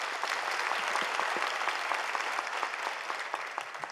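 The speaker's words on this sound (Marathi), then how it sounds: "एकदा पूर्ण अंतकरणाने या लेकरांकरिता आणि त्यांच्या शिक्षकांकरिता टाळ्या" An audience at a Marathi kirtan gathering claps for children and their teachers, a steady, even patter of many hands heard from a moderate distance with no speech.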